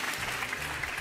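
A studio audience on a French TV game show claps in a brief burst of steady applause, moderately loud and dense, lasting about a second.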